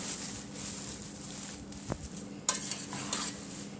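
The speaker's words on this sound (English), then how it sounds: "I'm gonna stir this a little" Curry chicken being stirred in a pot over a low background sizzle, with one scraping stroke and a few light clinks of the utensil against the pot near the end.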